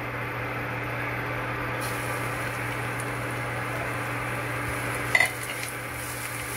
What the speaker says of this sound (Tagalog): Mga 2 tablespoons of oil. Okay, so now let's add the garlic.